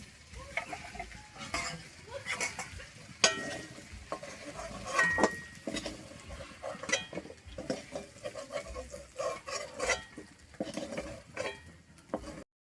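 Rice fries in hot ghee in a wok, with a soft sizzle under repeated scraping and stirring strokes and occasional clinks of a metal spoon against the pan, moderately quiet and close.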